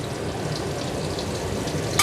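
Water boils in a pot on a home kitchen stove, giving a steady soft bubbling hiss with no voices over it.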